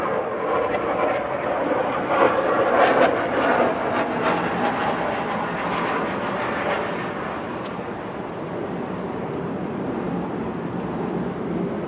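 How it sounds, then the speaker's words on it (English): Fighter jet passing overhead above Virginia Beach, a broad, fairly distant roar that builds and then slowly fades as the aircraft moves off, with no talking. "oh, we have a jet flying over."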